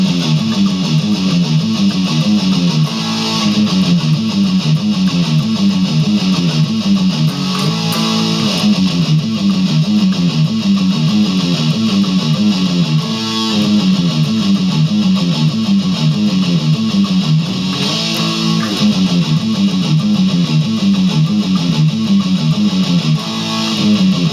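An electric guitar plays a riff, a loud, tight, repeating pattern of chugging power chords that cycles several times with no talking.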